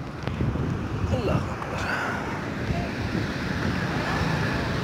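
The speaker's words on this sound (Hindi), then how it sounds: "पानी की गहराई बहुत, पानी की रवानी बहुत तेज़ है।" Fast-flowing water in a large canal about 14 to 15 feet deep, forming small waves, a loud continuous rushing wash with wind buffeting the microphone throughout.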